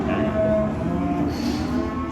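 Cattle moo at a livestock sale, a low drawn-out bellow standing out over the busy background murmur of the saleyard.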